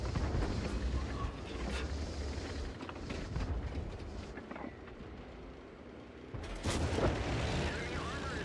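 Strv 103B tank cannon shots in a tank video game, heard as heavy booming blasts inside a dense, rumbling battle din with engine noise, plus a sharp louder report near the end.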